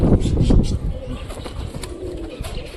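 Giribaz pigeons at a pigeon farm coo in low, rolling, overlapping calls, loud and close at first and then steadier, with faint human voices in the background.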